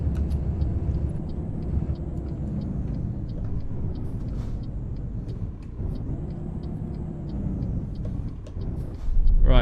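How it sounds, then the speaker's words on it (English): Scania truck engine braking in Euro Truck Simulator 2, a continuous low diesel rumble with a rhythmic throbbing pattern that dips midway and surges at the end, with faint speech-like traces. "And you can even hear the Jake better in this."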